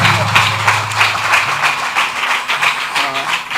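A church congregation claps loudly together at a special prayer in Dandeli, with rapid dense hand claps and voices mixed in the crowd noise.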